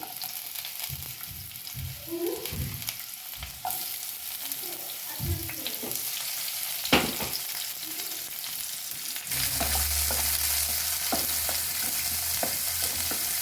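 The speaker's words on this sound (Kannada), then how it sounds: "ಆನಿಯನ್ನು ಮತ್ತೆ ಚಿಲ್ಲಿನ ನೀಟಾಗಿ ಫ್ರೈ ಮಾಡ್ಕೋಬೇಕು" Onion and chilli frying in a spoonful of ghee for a pepper chicken, a steady close sizzle with intermittent spoon scrapes and stirring knocks, swelling to a louder, denser crackle near the end; no talking.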